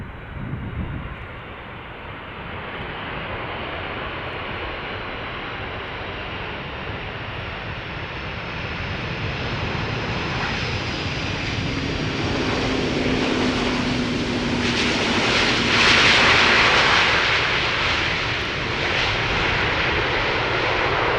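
An airliner landing at Schiphol Airport, a broad roar of engine noise that swells steadily louder as it nears, peaking toward the end with a rushing wash, heard from a distance and without talk.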